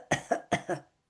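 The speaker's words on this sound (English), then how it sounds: "Or you may also have a cough with F, cough, a cough." Two pairs of short, dry coughs at close range, each burst sharp and breathy with a brief gap between them, then silence.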